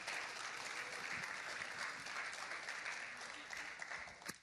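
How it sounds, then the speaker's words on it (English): A crowd applauds the mayor at a community stand against gun violence in 2024, a steady, fairly distant wash of clapping that holds throughout, with a few louder claps near the end. "One more round of applause for our mayor, ladies and gentlemen."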